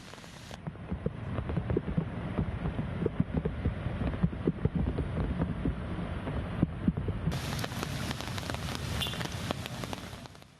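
Heavy rain pours steadily onto a flooded Jakarta street during a midday downpour, a dense, continuous hiss with no talk.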